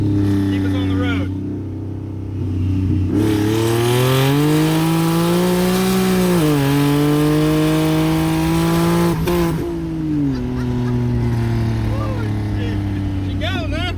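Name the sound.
turbocharged six-cylinder car accelerating hard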